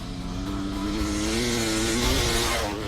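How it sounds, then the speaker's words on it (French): A motorcycle ridden toward 130 km/h on a lake accelerates hard and loud, the engine note holding a strained, rising whine that builds steadily with no voices over it. "se remettre en selle sur sa moto et cette fois-ci, il compte accélérer jusqu'à 130 km/h"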